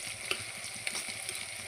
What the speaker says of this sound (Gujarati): આપણે જો ડુંગળી સાતડવા મૂકી દઈએ